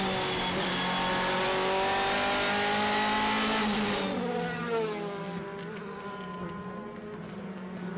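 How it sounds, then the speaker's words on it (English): A DTM race car engine heard onboard at full throttle during qualifying at Zandvoort, a loud sustained high-pitched wail held in top gear without downshifts, easing slightly toward the end as it lifts off. "Flat out. Doesn't even shift down. Just keeps it in top gear."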